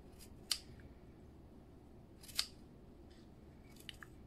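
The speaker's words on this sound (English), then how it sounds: "now what we're supposed to do with our super duper sharp scissors is cut your folds. Or wraps, I suppose." Sharp scissors cut through folds of wrapped yarn for pom poms, giving two distinct, close snips a couple of seconds apart and a fainter click near the end, in a quiet room.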